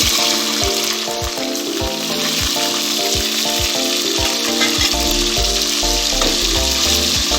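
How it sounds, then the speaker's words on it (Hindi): Steady loud sizzling of chicken frying in hot oil, with repeated clinks of a utensil stirring in a regular rhythm. "अच्छे से मिक्स करेंगे और चिकन जलने तक हमने चिकन को फ्राई कर लेना है।"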